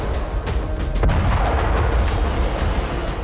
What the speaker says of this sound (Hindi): जहां आईडीएफ ने बारूद बरसाकर 8 से ज्यादा इमारतें जमींदोज कर दी।